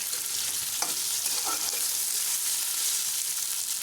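Onions and green chilies fry in a pan with a steady, close hiss of sizzling oil and light stirring scrapes.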